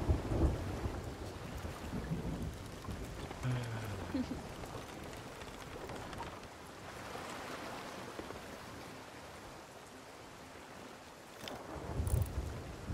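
A storm roars on and on, with rumbling thunder, rushing rain and wind, loud at the start and swelling again near the end, and faint voices mixed into the noise.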